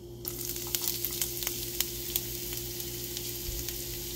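Cumin seeds crackle and sizzle in hot oil with ginger for a paneer kathi roll, a steady close frying hiss dotted with quick irregular pops, no speech.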